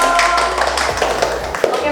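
Hand clapping from an audience at a primary school event, a short burst of claps with a voice speaking over it.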